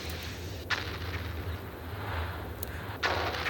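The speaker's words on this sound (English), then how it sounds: "Launch missiles." Missiles launch and explode in a flight simulator game over the Grand Canyon: two sharp, loud blasts about two seconds apart cut through a steady low engine rumble.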